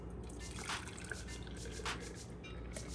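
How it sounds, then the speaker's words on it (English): Juice pouring into a jar, heard as a soft continuous trickle with brief splashy surges at a close distance, low in level against a steady background hum. "pour it in a nice jar."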